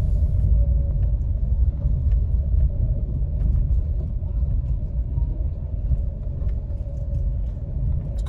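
A car drives along a dirt road through a Campinas neighbourhood near Viracopos airport, giving a steady, loud low rumble of engine and tyres that runs unbroken throughout with no talking.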